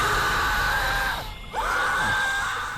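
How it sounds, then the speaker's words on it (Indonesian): A boy screams as if possessed, a long, loud, strained shriek that breaks off briefly mid-way and then resumes just as harsh, close and unaccompanied. "Trevor ditemukan di dalam kardus mengkayang dan berteriak seperti"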